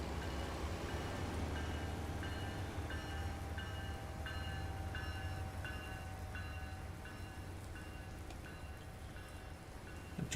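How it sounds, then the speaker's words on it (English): A train rolling past in American Truck Simulator, a steady loud rumble of rail cars with a repeating rhythmic clatter and a faint horn-like tone running underneath, with no talking. "The train's noisy"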